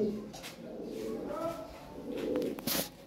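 European Lahori pigeons in a breeding pair, soft low cooing close by, a couple of gentle warbling calls in a quiet space with faint rustles and brief noises.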